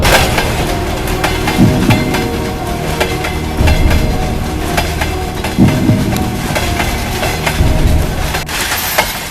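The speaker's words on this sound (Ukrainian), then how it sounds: "Ось ще й поїзд стає." A train slows on a railway line beside a town crossing. A loud, steady rumble carries a rhythmic clickety-clack of wheels over rail joints, with faint squeals, heard up close and with no talk.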